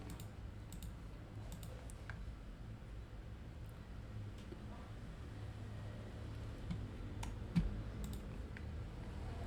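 Close, quiet computer keyboard typing with scattered key clicks over a steady low hum, irregular short bursts of keystrokes, no talking.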